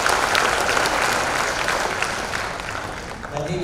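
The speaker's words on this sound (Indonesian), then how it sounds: "Tepuk tangan untuk beliau." Crowd applause at a Partai Demokrat party cadre event, a broad, loud burst of many people clapping that starts at full strength and slowly thins toward the end, where a voice begins to come through.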